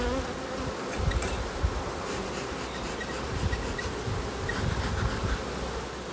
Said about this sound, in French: Il y a trop d'abeilles.